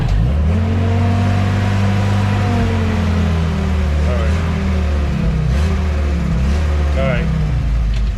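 Engine of a Jeep revving loudly and steadily as it pulls away, a sustained deep drone with rising and falling pitch throughout, with someone talking over it.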